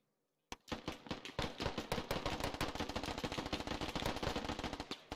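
Dense, rapid gunfire from Squad, a military shooter game, with a continuous stream of loud automatic bursts and sharp cracks that begins abruptly after a short silence and keeps rattling without pause.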